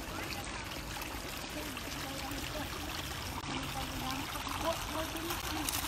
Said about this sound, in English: A water spring.